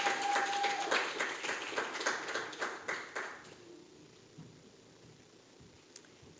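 Clapping from an audience at an academic lecture event, a brief burst of many hands that dies away after about three seconds, leaving a quiet room with a few scattered taps.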